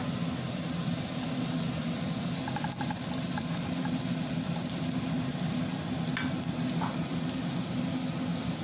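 Butter melting in a hot non-stick pan gives a continuous soft sizzle, even and steady from start to finish, close by with a low background hum and no talking.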